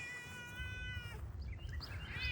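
A cat on a citrus-growing property gives a long, drawn-out, tonal meow that turns into a rising, strained caterwaul, quiet and fairly close over low background noise, with no talking.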